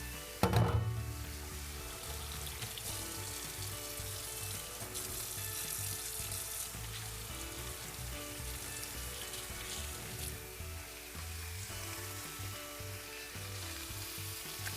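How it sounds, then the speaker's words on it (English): Water runs steadily from a kitchen tap over hands being washed, with food sizzling in a skillet nearby, making a continuous close hiss and splash throughout with no talk. "And I'm going to wash my hands."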